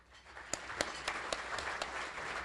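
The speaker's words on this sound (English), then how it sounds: "Let's give these members a round of applause as well." Chamber of commerce audience applauds longstanding members, a soft, distant patter of clapping with several sharper individual claps standing out, fairly quiet and continuous.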